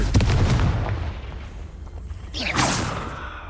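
A Confringo fire spell blasts off in Hogwarts Legacy, a sharp booming burst with a rushing whoosh that rolls into a second swelling impact, loud and close throughout the short clip.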